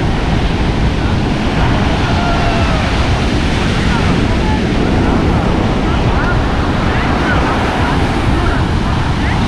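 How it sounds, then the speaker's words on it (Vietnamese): Strong sea waves break at a Phú Yên beach in Vietnam, a loud, continuous wash of surf mixed with heavy wind buffeting the microphone, steady from start to finish. "Sóng hôm nay mạnh nha bạn"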